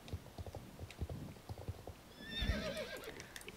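A horse in the game Star Stable Online clip-clops with a steady run of hoofbeats, then lets out a loud, close whinny partway through that rises and wavers before fading.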